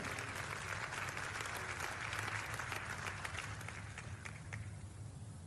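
A church congregation gives sustained applause of worship during a Christmas-themed sermon, a dense, steady wash of many hands clapping that fills the room and tapers slightly toward the end.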